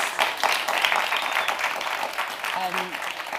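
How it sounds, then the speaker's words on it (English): An audience applauds a panel at a COP26 athlete activism event, a dense wash of clapping that stays steady throughout, with voices and a faint tonal sound mixed in. "So please give our panel a huge, huge round of applause."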